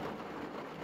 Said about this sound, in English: lie here and possibly fall asleep to the rain.